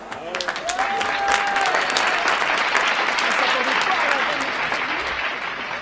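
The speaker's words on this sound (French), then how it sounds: "on était obligé de mettre des applaudissements enregistrés" Sustained crowd applause at a rap battle event, opening with a few sharp individual claps that build into dense, loud clapping with a voice heard calling out early on.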